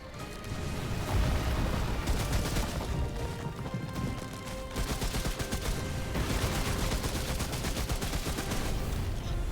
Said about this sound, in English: the objective is to shoot off his tail